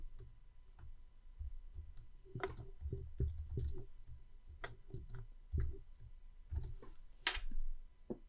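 Sparse computer keyboard clicks and taps in irregular short bursts while keyboard shortcuts are used to highlight spreadsheet cells in Excel, close and fairly quiet, with no talking.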